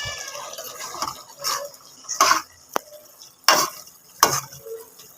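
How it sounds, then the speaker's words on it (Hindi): A spoon stirring shimla mirch gosht, a mutton and capsicum curry, in a pot: several separate scraping stirs at irregular intervals, clear and close, with a soft sizzle between them. "बीच बीच में हम इसमें चमचा हिलाते रहेंगे"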